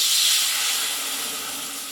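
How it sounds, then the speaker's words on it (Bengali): Water poured into a hot wok after frying spices for a Bengali kochu dish bursts into a loud, continuous steam hiss that fades slightly over two seconds, close up with no talking. "এইবার এই কড়াইয়ে দিয়ে দেব জল"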